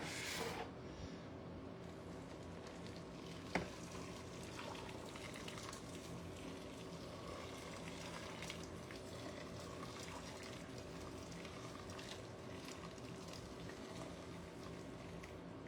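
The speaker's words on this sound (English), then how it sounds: "So this is actually already boiling water." Steady low rolling bubble of water boiling in a pot, continuous and fairly quiet, with one faint clink partway through.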